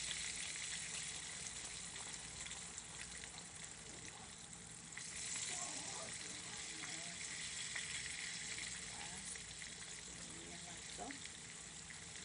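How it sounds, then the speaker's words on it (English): Steak fries deep-fry in very hot grease previously used for chicken, giving a faint, steady, bubbling sizzle that continues evenly throughout. "you want to make sure your grease is super hot"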